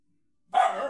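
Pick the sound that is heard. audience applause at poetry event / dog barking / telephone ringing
dog barking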